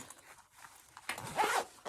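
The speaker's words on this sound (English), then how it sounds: "So I've unzipped it just slightly to make sure that the zipper isn't twisted or anything like that." A zipper on a sewn Valora handbag, size large, is drawn open just slightly in one short, close, moderately loud rasp after a quiet pause, with no talking.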